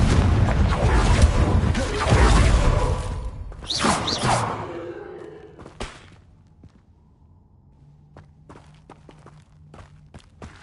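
A Confringo spell blast in Hogwarts Legacy: a loud rushing burst with crashing impacts fills the first few seconds, then fades into quiet footsteps and small taps.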